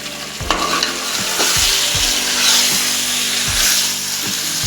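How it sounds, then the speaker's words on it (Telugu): Chicken fries in hot oil for chicken pulao, a steady loud sizzle with a metal spoon scraping the pan in regular strokes. "ఇది ఒక 20 minutes ఉడకాలి ఆయిల్లోనే."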